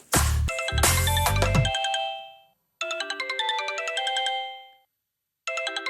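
A phone ringtone plays after a number is dialed, a bright melodic electronic ring sounding in two loud bursts with a pause between, then starting a third time, with no talking.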